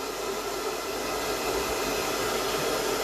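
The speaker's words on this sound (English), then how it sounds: "So Johan got me my hair dryer" A hair dryer blows continuously with a steady, loud, hissing whoosh and no pauses.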